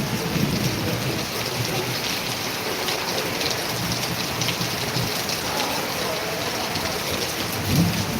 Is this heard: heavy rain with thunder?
yes